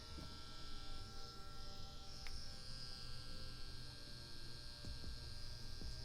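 EvoTech S tattoo machine running at about 7.5 volts, a steady faint electric buzz with a constant hum, unbroken and alone throughout.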